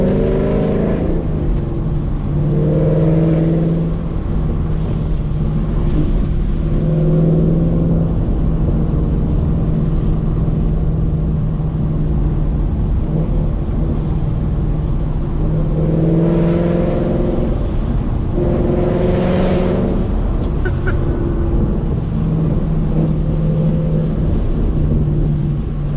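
A Ford Mustang GT fitted with Corsa Extreme exhaust revs hard on a backroad, its engine rising in several loud pulls and surges over a constant driving roar.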